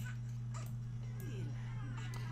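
In The Sims 3, a pet dog gives a few soft whimpers and yips over a loud steady background hum, faint and brief, with a voice murmuring faintly.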